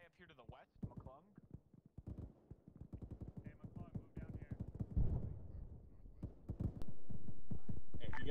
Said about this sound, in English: That's an MG right in front.